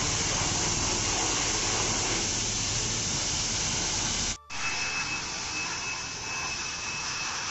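High-pressure water spray washing a motorbike, a loud steady broadband hiss that cuts out for a split second and resumes slightly softer, continuous with no talk.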